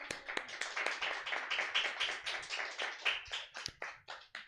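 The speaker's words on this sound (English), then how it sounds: "Can I get a round of applause for Stab for letting us do the show?" Audience at a live comedy show clapping for several seconds, a dense crowd of handclaps with a few sharp, louder individual claps standing out near the end.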